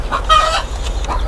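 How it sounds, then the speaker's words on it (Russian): Short bursts of curly-feathered chicken clucking, a rooster's brief calls close by over low background rumble, lasting just over a second. "По-моему, петушок."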